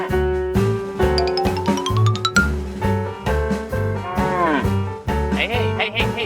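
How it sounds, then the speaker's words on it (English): A herd of cows moos loudly and repeatedly, long drawn-out calls overlapping one another in a steady rhythm, close by with no talking. "The herd of cows is still tamed."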